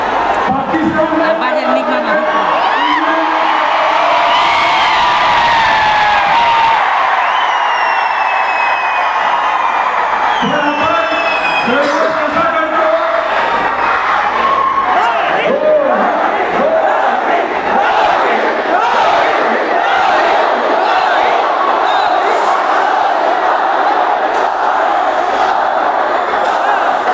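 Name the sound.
crowd cheering loudly for Rohit Sharma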